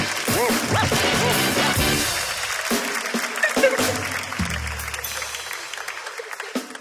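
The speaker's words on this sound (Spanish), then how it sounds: "Un fuerte aplauso" Audience applause in a casual talk-show setting, a broad wash of clapping at moderate level with music-like tones and some voices mixed in underneath.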